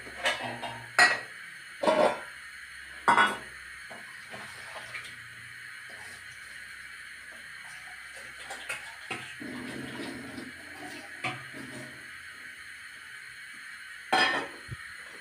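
A spoon scrapes and clinks against a bowl while grated coconut, jaggery and cardamom are mixed, giving a few sharp knocks near the start and end with softer stirring scrapes between.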